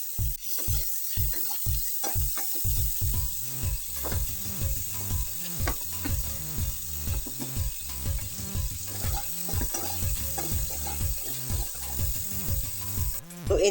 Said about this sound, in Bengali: যে আলুগুলো সিদ্ধ করে রেখেছিলাম, সেই আলুগুলোর মধ্যে নুন হলুদ দিয়ে বসিয়ে দিলাম ভাজি করার জন্য